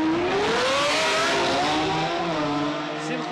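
Two cars, a BMW M4 of over 700 hp and a 740 hp Ferrari F12 Berlinetta, launch side by side in a drag race, engines roaring loud and rising steadily in pitch as they accelerate away, with no talk.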